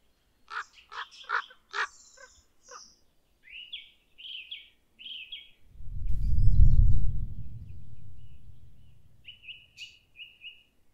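Ravens calling repeatedly in a Hungarian mountain forest while mobbing an eagle owl, a series of harsh croaks and higher calls at close to mid range, with a loud rushing gust of noise partway through, no voices.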